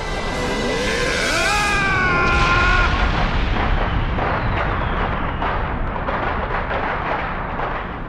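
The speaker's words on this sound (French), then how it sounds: "jamais vu plus beau feu d'artifice!" A deep, rumbling explosion swells and rolls on, with rising whistles at the start and a long crackling roar that slowly fades, like fireworks bursting close by.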